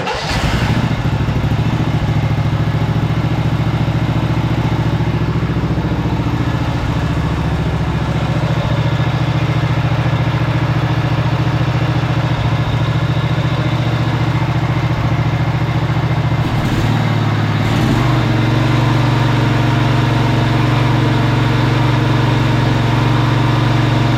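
Free lawn mower engine cranked and running, a loud, close, steady idle with a constant low drone and clatter throughout, a brief dip in the middle before it settles again.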